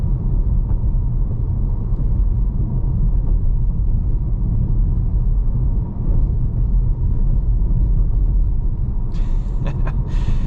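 A 2024 Volvo S60 on 19-inch wheels driving over a patchy, uneven road, heard from inside as a steady loud low road rumble, with a few faint bumps and a brief hiss near the end.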